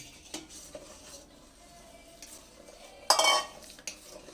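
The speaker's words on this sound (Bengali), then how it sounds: "ডালটা দিয়ে একবার এরকম করে নাড়তে হবে" Washed red lentils being stirred in water in a pot for khichuri, a few scraping and knocking strokes of a utensil against metal, including one louder burst, close and without speech.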